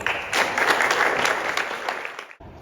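Audience applause at the final of a school eloquence contest, a steady wash of clapping from a crowd that starts abruptly, holds for about two seconds and then cuts off.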